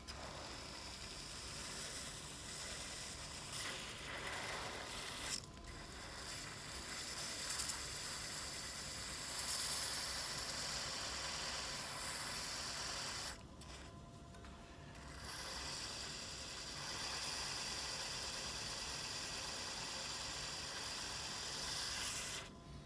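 A wood lathe spins at around 700 rpm while sandpaper works a turned wooden Christmas candle holder, giving a continuous close rasping hiss with brief pauses as the sanding lifts off.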